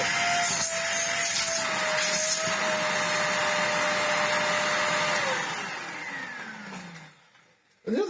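A restored £30 Sebo Dart 1 commercial vacuum cleaner runs with a loud, steady motor whine and airflow rush, then spins down with a falling pitch near the end before a brief bump.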